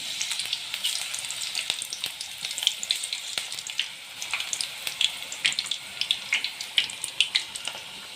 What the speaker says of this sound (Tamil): எண்ணெய் இந்த மாதிரி கொதிக்கிறது அடங்கினதும்